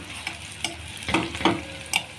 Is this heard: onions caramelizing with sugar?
yes